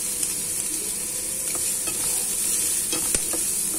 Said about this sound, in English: First the garlic, and then the onion. Not too much oil. I use olive oil